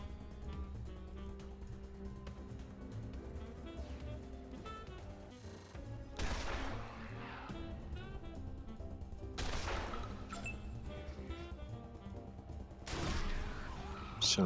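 Gunshots in the video game Wasteland 2 crack out in three sharp, loud bursts over a low background music bed, with someone speaking quietly between them.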